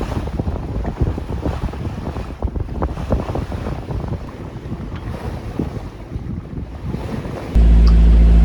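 Sailboat sailing on the Mediterranean Sea, with constant wind buffeting the microphone over the rush and slap of water against the hull, ending in a loud steady hum.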